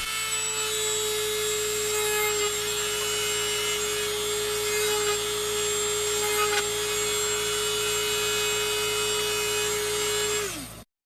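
A small drill bit bores steadily into a wooden board, giving a sustained high whine with scraping texture that runs close and alone for about ten seconds, then drops abruptly as the bit snaps.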